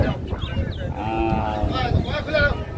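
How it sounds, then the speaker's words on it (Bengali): Dairy cows and calves at a cattle market in Raniganj, Dinajpur, moo loudly and repeatedly, with bleat-like calls and busy crowd noise mixed in under occasional talk. "বেশ সুন্দর গাভী বাছুর সংগ্রহ করছে তোতা ভাই"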